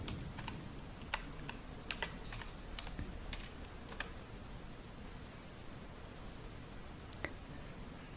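A computer keyboard is typed on in quiet, scattered keystrokes, soft and close, with a few sharper taps over faint background hiss.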